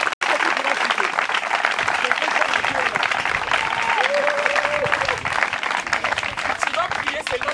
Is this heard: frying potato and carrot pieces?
no